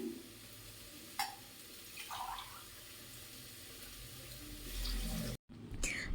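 Three glasses of water poured into a pot for cooking rice, a steady splashing stream that runs for several seconds, briefly cuts out, then resumes, with a few clinks of the glass and no talking.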